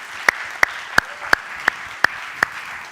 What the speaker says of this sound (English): Give a big round of applause for our team.